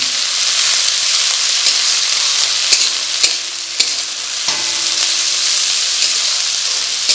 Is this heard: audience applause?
no